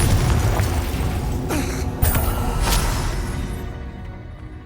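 A Confringo blasting spell goes off in a Harry Potter video game. A loud, dense rumbling blast carries a sharp crack midway and fades off toward the end.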